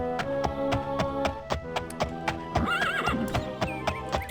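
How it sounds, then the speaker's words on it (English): Horse in the video game Daggerfall whinnies loudly over a steady clip-clop of hooves; the hoofbeats tap evenly throughout, and a wavering neigh rises near the middle, with no voices. "we're gonna take our horse. That's right, we got a horse."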